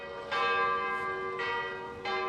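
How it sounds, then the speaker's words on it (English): Church bells in Zürich ring out in three separate clear metallic strokes, each ringing on with a long sustained hum, heard from a moderate distance with no talking. "they love ringing the bells here every quarter of an hour or every hour"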